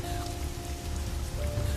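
Heavy rain pours steadily onto surfaces at night in a horror story, dense and close, with a low continuous hiss and a faint tonal hum beneath it.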